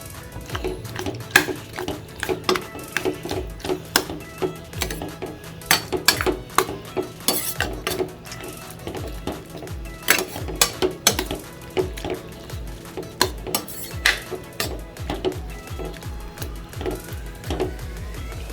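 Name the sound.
adding cooked dal to capsicum kootu in a pot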